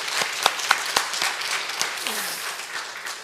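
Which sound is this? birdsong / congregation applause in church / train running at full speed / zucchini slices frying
congregation applause in church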